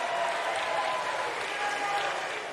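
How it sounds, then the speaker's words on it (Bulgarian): A concert audience applauds at a televised annual music awards show, a steady, fairly faint wash of clapping from a large crowd that continues throughout. "Я да чуя вашите аплодисменти."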